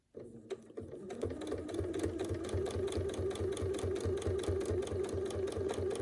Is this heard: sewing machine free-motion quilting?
yes